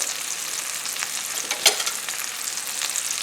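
Chicken tidbits and vegetables sizzle and fry in a 10-inch pan, a steady close crackle with a few sharper pops and scrapes of a turning tool, no voices.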